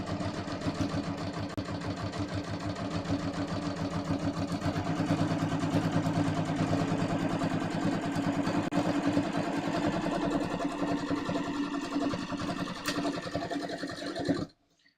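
A sewing machine runs steadily for about fourteen seconds topstitching a pair of jeans, a continuous mid-pitched motor hum with rapid needle clatter, close and alone, stopping abruptly at the end.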